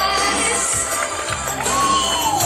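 A party crowd at a birthday celebration breaks into loud, continuous applause and cheering, a dense steady wash with high whistle-like tones rising through it.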